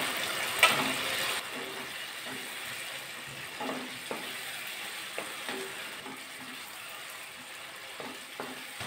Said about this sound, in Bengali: এবার মশলা দিয়ে আলু ভালো করে কষিয়ে নিয়েছি, মশলা দিয়ে কিন্তু তেল ছাড়ছে